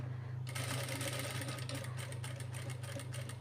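A sewing machine stitches steadily on a child's lehenga blouse, starting abruptly and then running as a close, loud, continuous whir with a fast, even needle rhythm.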